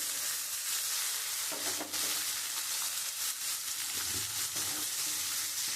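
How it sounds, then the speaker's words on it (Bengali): Onion, ginger paste and garlic frying in a pan, a loud, dense, continuous sizzle with brief stirring bursts, close and unbroken throughout. "আমি পেঁয়াজটা একটু লাল লাল করে ভেজে দিয়েছি"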